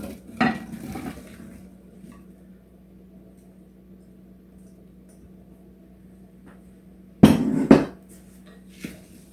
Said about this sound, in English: So let's dump the apples.